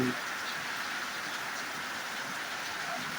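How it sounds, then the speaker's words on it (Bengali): Heavy monsoon rain pours down in a steady, dense hiss, constant and unbroken throughout. "মুষলধারে বৃষ্টি হচ্ছে"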